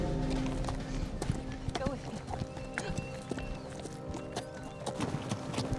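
Bucking horses run in a rodeo-style competition arena, with steady clip-clop hoofbeats and occasional whinnies carrying throughout amid crowd and human voices.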